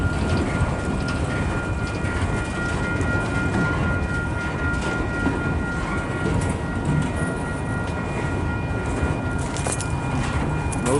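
Steady, close rumble of a slow-moving freight train with autoracks and hoppers, wheels and cars grinding past continuously with faint squeal tones and no pauses.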